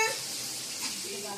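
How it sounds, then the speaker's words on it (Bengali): Steady hiss of oil sizzling as fish fries, a continuous broadband crackle throughout, with faint voices briefly in the background. "এই যে এত মাছ ভাজা হয়ে গেছে, এখন চলছে মাছ ভাজা।"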